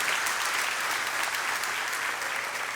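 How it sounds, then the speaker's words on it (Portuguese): A church congregation claps together, a dense, sustained round of applause filling the space at steady loudness throughout, with no voices standing out. "Dá uma salva de palmas se você toma posse."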